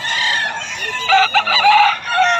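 Chickens and roosters at a poultry market in Bocaue, with a loud, close rooster crow ringing out over clucking birds in a short burst.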